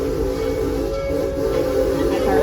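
The Serengeti Railway train at Busch Gardens Tampa rolls along, a steady loud rumble with a droning hum and an airy hiss throughout, heard from on board.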